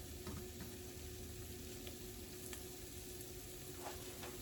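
Steady sizzling as flour browns in a frying pan with onions, a constant crackling hiss with a few faint scrapes of stirring, no voices.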